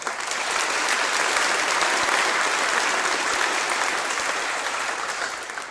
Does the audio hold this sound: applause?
yes